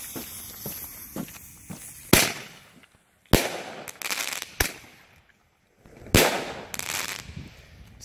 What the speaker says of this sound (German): Jetzt haben wir hier einen Zweier und einen Einser, also zweimal Crackling.